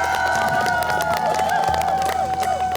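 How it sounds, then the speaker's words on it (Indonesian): A TV game show studio audience claps and cheers for a contestant, a loud continuous crowd roar with scattered claps, whoops and a sustained tonal layer running underneath. "satu orang terakhir boleh kita berikan tepuk tangan buat peserta"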